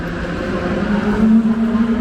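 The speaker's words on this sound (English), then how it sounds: "You hear the cars in the background. I'm not sure what they're racing right now, but it sounds nasty." Race cars running at the Long Beach Grand Prix, heard as a steady engine drone at a distance with a high whine that rises and holds near the middle, continuous and moderately loud, with no speech.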